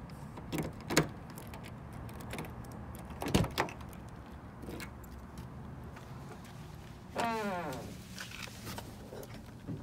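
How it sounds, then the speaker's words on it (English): A 1993 Toyota MR2's car door clicks and thunks open in a couple of sharp knocks, followed by a creaking, squealing hinge-like sound near the end. "Open the door here."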